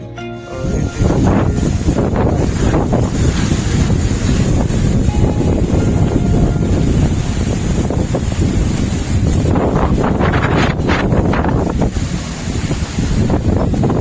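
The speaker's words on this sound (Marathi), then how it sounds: "किती असा जोरदार असा वारा चालू आहे इथं" Strong wind roaring across a microphone at a hilltop temple, loud and continuous with heavy low rumble and gusting surges throughout, no voices.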